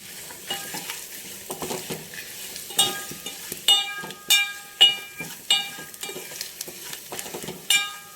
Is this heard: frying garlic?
yes